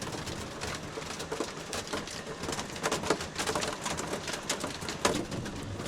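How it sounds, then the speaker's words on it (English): Hailstones patter densely on the roof of a parked campervan during an April storm, a continuous close rattle of sharp ticks and taps with occasional louder hits. "Hailstones."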